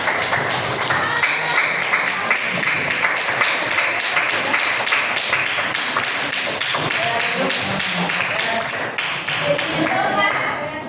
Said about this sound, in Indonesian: kasih tepuk tangan buat Bapak